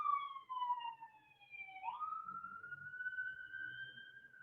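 A police-style siren wails as it passes, its pitch sweeping down, then jumping and rising again, clear but at moderate distance over quiet background with faint low rumble.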